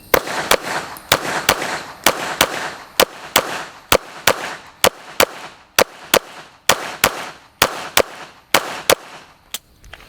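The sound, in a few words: pistol shots fired in fast splits, USPSA practice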